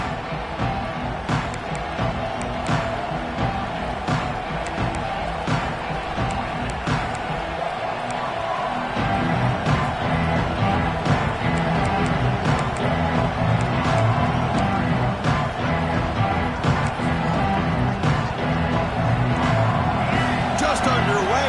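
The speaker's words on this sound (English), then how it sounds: "this home crowd is fired up and ready to make a difference today" A home crowd roars steadily throughout a college football video game, a dense, continuous stadium wash that swells louder midway, with a commentator talking over it.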